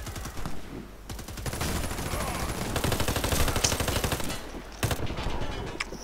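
Rapid bursts of video game gunfire crackle loud and close, repeated volleys with brief gaps, one sharp shot standing out near the end.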